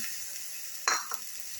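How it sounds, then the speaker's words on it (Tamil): Bitter gourd and shallots sautéing in sesame oil give a steady close sizzle, broken near the end by two quick scrapes of a spoon stirring the pan. "பாவக்காயும் சின்ன வெங்காயம் போட்டு நல்ல எண்ணெய் ஊற்றி வணக்கிக்கிட்டுருக்குறேன்"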